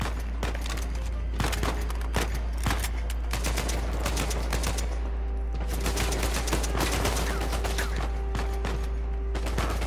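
Sustained bursts of automatic and rapid gunfire in the Uncharted 4 video game, loud and dense throughout with overlapping shots and mechanical clatter, no talk over it.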